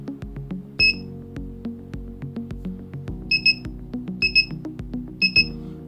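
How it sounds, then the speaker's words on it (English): A high electronic buzzer on an Arduino ultrasonic distance sensor beeps in short bursts, single and double, over a repeating clicky musical pattern; close and clear, with no talking. "as I put an object or something in front of it, it will detect it and beep"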